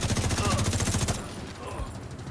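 Gun turret in The Division 2 firing a fast, steady stream of rapid shots for about a second, then falling quiet under faint game ambience.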